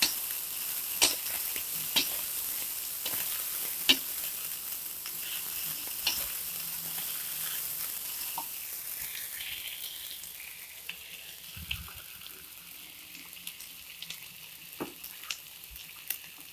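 Wet noodles stir-fried in a pan for mie tek tek with coconut milk, a steady close sizzle punctuated by sharp spatula taps and scrapes at irregular intervals, easing slightly in the second half, with no talking.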